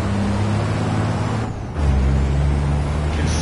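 Heavy racing truck in a truck racing video game, its engine drone dipping briefly under a hiss of air brakes as it slows, then roaring back; loud, continuous and without talk.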